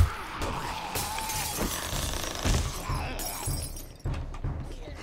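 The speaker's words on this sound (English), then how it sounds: "I hear lots of smashing happening." Smashing and breaking in the survival game 7 Days to Die, a continuous run of shattering crashes and glassy debris, with several loud impacts and a brief lull before the breaking resumes.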